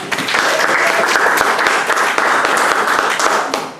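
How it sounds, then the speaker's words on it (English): A crowd at a community health care foundation summer kick-off event breaks into loud, sustained applause, dense and continuous throughout before easing slightly at the end. "Just give her a round of applause."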